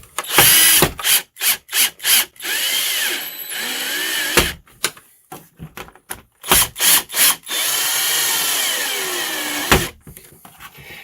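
A power drill drives a screw into the plate of a tanning bed, with short repeated whirring bursts, a couple of longer runs, and clicks and knocks between them, close and loud.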